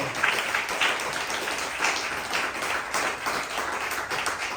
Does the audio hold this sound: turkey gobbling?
no